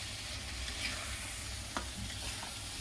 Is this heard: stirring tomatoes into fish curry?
yes